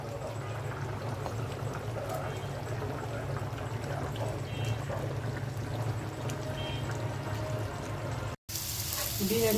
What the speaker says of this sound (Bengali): বিরিয়ানিতে দেওয়ার জন্য কয়েকটা আলু আমি তেলে ভেজে নিচ্ছি।